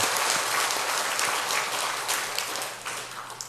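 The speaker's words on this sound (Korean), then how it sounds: "하나님께 영광의 박수를 좀 한번 돌려봅시다" A church congregation at a Sunday service bursts into dense, loud applause that fills the room and holds steady before easing slightly toward the end.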